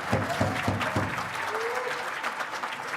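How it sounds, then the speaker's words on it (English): Audience applause for graduates at an Indigenous graduation celebration, a steady mid-distance clapping from a crowd that starts with a few sharper claps and then settles into an even wash. "Let's have a nice big round of applause for our graduates."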